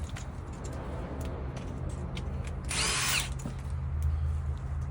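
A 3/8 impact wrench takes off brake caliper bolts during a rotor and pad job, giving one short buzzing burst in the middle of a quiet garage with faint clicks and mechanical handling around it.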